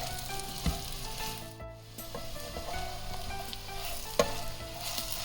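Crispy hot butter cuttlefish is tossed with sauce in a hot pan, a continuous close sizzle under repeated scraping stirs and a couple of sharper knocks from the utensil.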